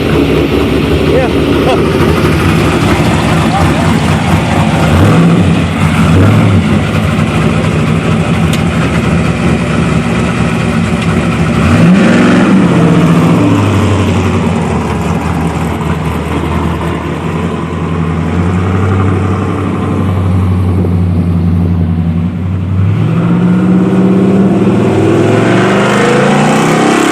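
A 1980 Chevrolet Malibu V8 revs through an aftermarket Dynamax exhaust at a muffler shop, a loud steady burble rising into several throaty revs, with voices talking over it at times.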